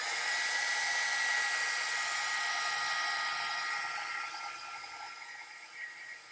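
A hair dryer blows steadily over a freshly painted watercolor journal page, a loud continuous whooshing hiss that eases off slightly toward the end, with no voices.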